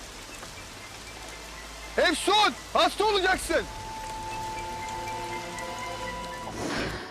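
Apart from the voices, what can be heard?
rain falling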